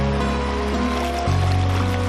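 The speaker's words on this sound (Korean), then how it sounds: "이곳으로 오니 절절절 흐르는 물소리가 들립니다." Shallow water of a tributary of the Geum River flows and babbles in a steady, close rush, continuous and fairly loud with no voices.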